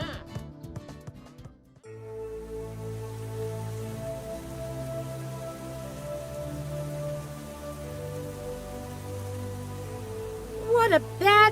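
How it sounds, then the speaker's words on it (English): Cartoon rain falls as a steady hiss over soft, sustained background music, after a brief voice at the start, with a chirpy burst near the end. "What a bad day to rain."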